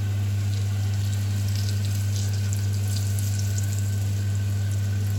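Steady frying sizzle from a Faberlic pan, a soft continuous hiss with a low constant hum underneath, no talking.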